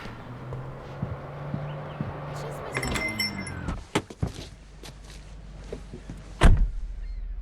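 Keys jangle in a short metallic burst as they are handed over in the video game Alan Wake, with softer handling clicks and thumps around it and a heavier knock near the end; no one speaks.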